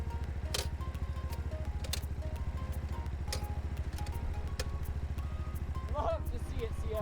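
A CFMoto Papio SS motorcycle with a broken kickstand kill switch is ridden, its engine a steady, close, throbbing drone that hardly changes through the whole stretch.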